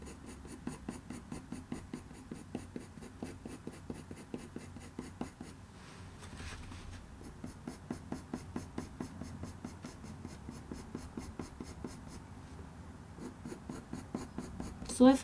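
Graphite pencil scratching short, repeated fur strokes on drawing paper for a cat's eye, a steady rhythm of quick close scrapes with brief pauses, heard alone.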